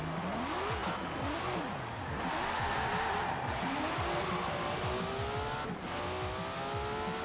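A rally car on rally suspension tears along a wintry route in Forza Horizon 4, its engine revving up and down in quick sweeping bursts with gear shifts and tyre noise, loud and close throughout.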